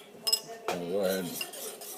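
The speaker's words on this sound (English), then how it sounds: "whisk up our jam and barbecue sauce mixture" Jam and barbecue sauce mixture whisked in a bowl with brown sugar for pork loin back ribs, a quick run of metallic clinks and scraping, close and fairly quiet, with a brief voice-like tonal stretch in the middle.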